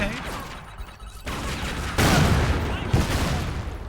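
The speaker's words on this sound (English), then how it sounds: "Yep, grenade hit me." Explosive bursts and gunfire from a Tomb Raider game sound in rough, dense blasts, with a loud boom near two seconds and another burst just before three seconds, under a busy battle din.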